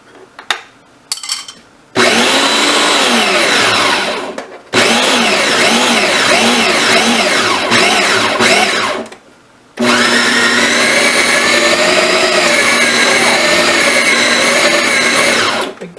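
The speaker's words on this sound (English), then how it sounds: "our dough is now fresh out of the food processor" A food processor pulsing pie dough in bursts, loud whirring motor runs of a few seconds each separated by short pauses, the pitch wavering as the dough churns, close up with no talk.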